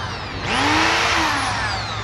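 A Bosch impact drill with a reverse switch is switched on for a test after repair. Its motor spins up sharply into a loud, steady whining hum and holds there.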